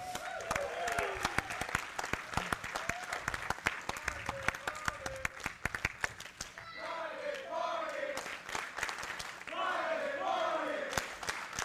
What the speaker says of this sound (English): Crowd chanting for Private Party, showing their respect.